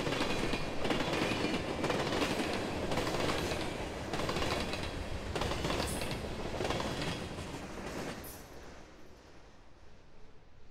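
A CSX freight train, the 310 on the former B&O Toledo Line, rolls past at moderate distance with steady rumbling and rhythmic clickety-clack of wheels over rail joints, fading slightly toward the end.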